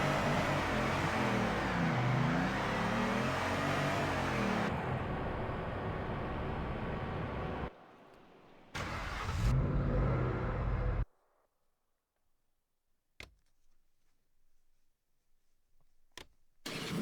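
A car engine in the Torque Drift mobile drift racing game drones and revs loudly for about eleven seconds, dropping out briefly midway, then falls to near silence broken by a few short faint bursts.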